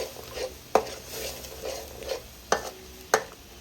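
Spoon stirring chili paste frying in simmering coconut milk in a pot, with a soft steady sizzle broken by a few sharp clinks of the utensil against the pan.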